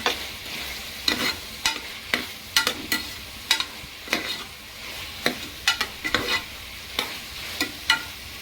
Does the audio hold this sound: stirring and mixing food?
yes